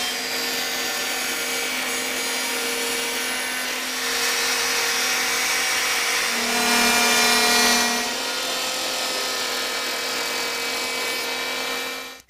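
A Bosch GHO 26-82 electric planer runs continuously at close range, a loud, steady high-pitched motor whine with a brief deeper surge midway as the blade bites, then winds down at the end.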